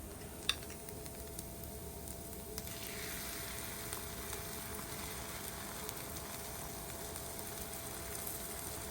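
Chorizo and potato sizzling on a Blackstone flat-top griddle with oil, a steady, even hiss that continues unbroken, with one faint tap near the start and no voices.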